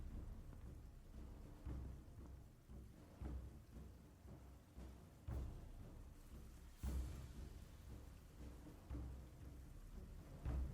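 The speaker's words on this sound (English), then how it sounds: "It's very rainy." Steady rainfall with low rumbling thunder in the Star Trek: Resurgence video game, a continuous hiss broken by periodic soft booms, faint and ambient.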